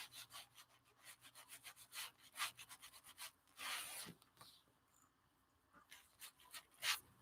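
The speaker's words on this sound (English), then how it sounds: "I'm scrubbing them with the brush" Brush scrubbing paint, steady rhythmic bristle strokes rasping back and forth against a surface, close but soft, with no talking.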